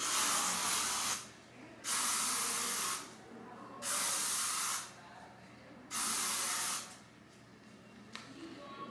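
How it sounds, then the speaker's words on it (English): Four long bursts of glossing hairspray, each about a second, separated by short pauses, close and loud, with quiet rustling between them. "I'm just gonna go through with my Fave 4 glossing hairspray and spray it all over"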